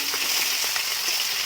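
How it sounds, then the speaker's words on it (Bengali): Pieces of fish fry in hot oil in a home kitchen pan, a continuous soft, hissing sizzle with faint crackles, steady and close, no voices. "আর এই কয়েকটা ভাজলেই হয়ে যাবে।"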